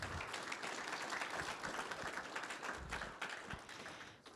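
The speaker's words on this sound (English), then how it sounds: "we can give them a final round of applause" Applause from a seminar audience at the close of a swine health panel, dense steady clapping that fills the room for several seconds before thinning slightly toward the end.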